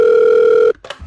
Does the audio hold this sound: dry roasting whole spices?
no